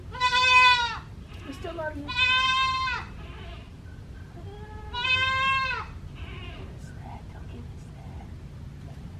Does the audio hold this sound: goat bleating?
yes